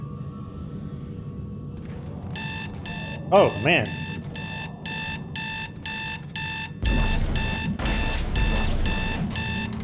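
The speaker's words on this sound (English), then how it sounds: "Turn the alarm off." An alarm clock in the video game Dead Space 2 rings in loud, evenly spaced bursts of shrill beeping that repeat for several seconds, with someone talking briefly over it and game sounds underneath.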